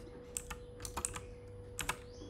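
Computer keyboard pressed for the Ctrl+R redo shortcut in the Vim editor, a short burst of a few crisp, close key clicks over a faint electrical hum.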